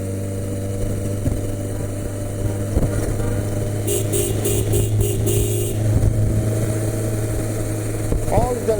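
A Honda Goldwing motorcycle cruising on a highway, its engine a steady, close drone mixed with wind rush, with a few sharp knocks near the end.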